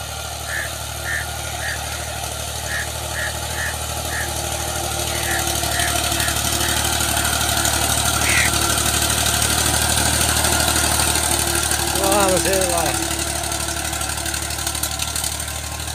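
A tractor engine idles with a steady low drone that grows slightly louder partway through. Voices and faint bird calls sit over it.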